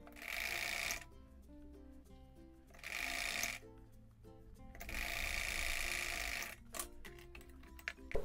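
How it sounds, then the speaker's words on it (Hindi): A sewing machine stitches along a dress neckline for a princess ball-gown frock, running in three loud bursts separated by short pauses, with no talking. "अब हम नेक लाइन पर सिलाई लगाएंगे।"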